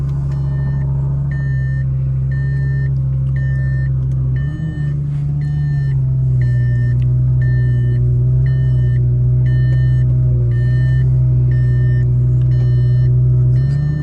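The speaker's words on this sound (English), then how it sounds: "They all beep in reverse like a school bus." A Lamborghini Gallardo sits in reverse, its steady electronic reversing beep repeating at an even pace over the car's loud, low idling engine rumble, with no talk.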